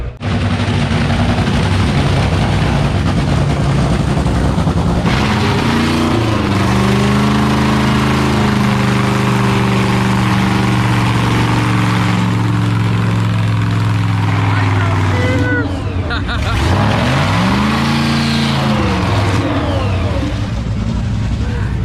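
A Top Fuel dragster engine at the NHRA U.S. Nationals, a loud, ragged roar with pitch sweeping up and down as it revs repeatedly, very close and dominating, with crowd noise and voices underneath.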